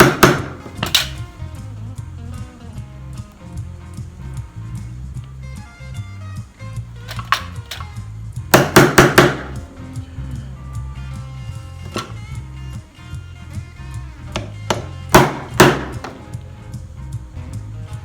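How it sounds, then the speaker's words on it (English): A chisel tapped with a mallet into score lines on a wooden cigar box, sharp knocks in scattered clusters and short rapid runs, close and loud over a low background hum. "I'm going to take my chisel, place it in the groove, come down and mark it"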